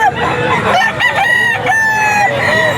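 A straight-combed rooster crowing at the Bocaue pet market, a loud close drawn-out crow with clucking fowl around it.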